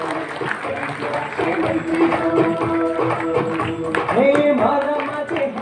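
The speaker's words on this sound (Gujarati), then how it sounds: "દીપાંત્રેલી જોરદાર તાળીઓથી વધાવ્યું" Audience applause greets the cast of a Gujarati stage comedy, a continuous wash of clapping from a crowd under music and announcing voices.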